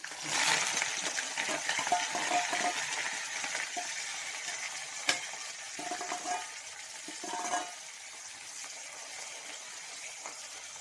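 Chopped onions hit hot oil with mustard seeds in a pan, making a loud, close sizzle that gradually settles, broken by a few stirring scrapes and pops.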